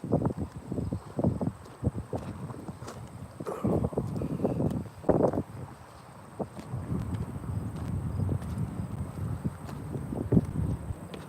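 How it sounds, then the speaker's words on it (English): A vehicle engine rumbles low and steady from inside the car near train tracks, mixed with wind buffeting and faint rattles. "You hear the engine sound right now."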